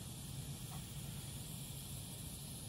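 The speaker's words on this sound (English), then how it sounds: "So I can hear my water boiling off." Water boiling off a wet crucible under heating gives a steady, faint, continuous hiss with a low rumble beneath, unchanging throughout with no voices.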